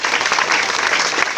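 Audience applause welcoming a student onto the stage at a school talent show, a dense burst of many hands clapping close and loud throughout, with no talking over it.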